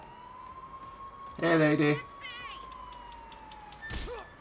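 In the Spider-Man video game, an ambulance siren wails in a rising and falling tone across the scene, with game sound effects and a man's short spoken remark over it.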